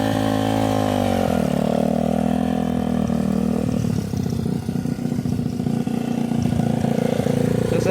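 A motorcycle engine runs loud and close, holding a steady low idle that dips and settles unevenly partway through, with a rough, lumpy beat and no talking.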